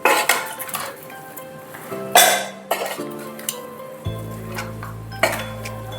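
Country chicken being mixed with curry leaves and salt in a cooking pot, with repeated metallic clinks and scraping of a utensil against the pot in short, uneven bursts, close up and with no talking.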